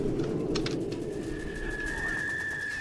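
Pigeons or doves coo in a Call of Duty 2 battlefield scene, soft calls at low level under a steady dense ambient bed, with a thin sustained whine entering partway through.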